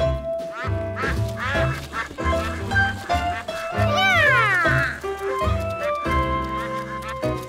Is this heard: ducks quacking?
yes